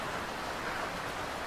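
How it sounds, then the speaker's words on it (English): Steady pouring rain in the sailing game Sailwind, a dense even hiss filling the whole moment with no breaks, heard alone without talk. "Pouring rain."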